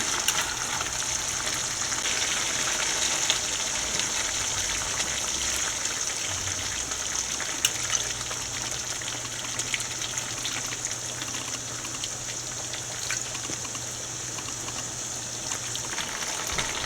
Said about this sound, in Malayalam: പകുതി തേങ്ങാപ്പാൽ ഒഴിച്ച് കൊടുക്കാം